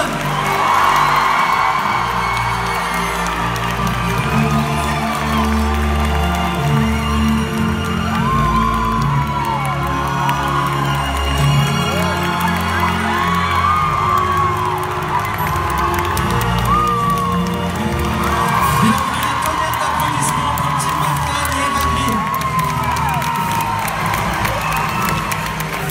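A film premiere audience cheers and applauds for Eva Green at the French premiere of Dumbo, a dense, loud crowd roar with whoops and high shouts rising and falling steadily throughout.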